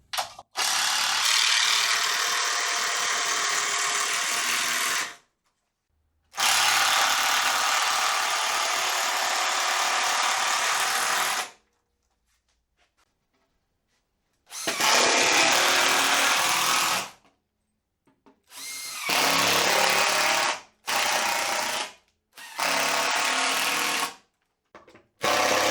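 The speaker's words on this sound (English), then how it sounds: "first I need to add this cross member. Just screws into the frame on both sides." Power drill driving screws to fix a cross member into the frame of a homemade band saw mill, several loud whirring bursts of a few seconds each separated by pauses, close up.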